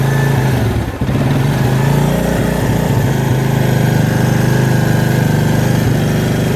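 A 1996 Suzuki Quad Runner ATV engine runs steadily with the choke partly released, a loud close droning idle with a low throbbing pulse and one brief dip near the start.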